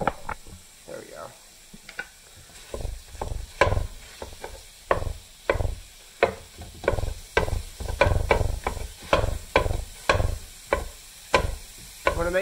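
Taco meat being stirred and fried with a wooden spoon in a pan, giving repeated scraping and clacking strokes in a steady rhythm over a low sizzle, close and fairly loud.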